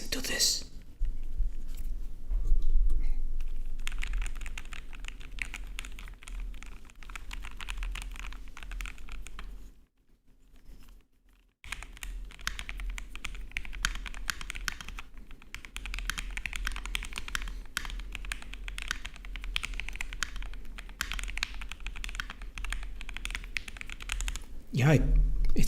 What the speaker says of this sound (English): Mostly because of the keyboard, but I hope the keycaps help.